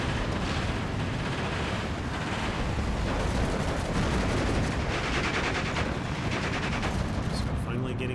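In Steel Division 2, 81mm mortar shells burst in a forest battle, a dense, continuous barrage of loud explosions and rumbling gunfire mixed with someone talking over it.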